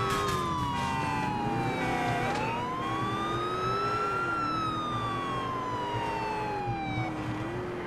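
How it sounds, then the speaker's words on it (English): A wailing police car siren in GTA IV sweeps steadily up and down, loud and continuous, with an engine rumbling underneath and no talk. "This siren is fucking annoying."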